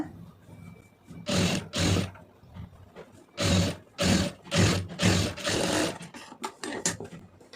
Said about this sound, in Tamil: அதை மடக்கி அப்படியே ஒரு தையல் போட்டுருங்க ரெண்டு பக்கமும் ஒரே மாதிரி போட்டுருங்க